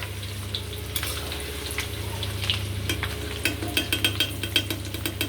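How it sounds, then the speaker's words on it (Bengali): Ginger garlic paste sizzles with chicken in a pan, a constant close frying hiss under repeated scraping and clacking strokes of a spoon stirring, which grow more frequent toward the end. "আদা রসুন পেস্ট দেওয়া হলো ভালো করে নাড়তে হবে"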